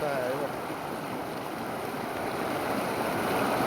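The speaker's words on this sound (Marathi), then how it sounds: "पाऊस पण पका आहे आणि मस्त धबधबा एक नंबर" Steady broadband rushing of falling water, like a waterfall with rain, continuous and fairly loud throughout with no clear voices.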